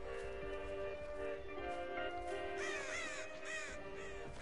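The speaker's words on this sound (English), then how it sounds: "Too many crows in." Crows caw in the Dead by Daylight video game, with a few hoarse calls late in the clip over a steady droning in-game ambience, moderately close and without talk.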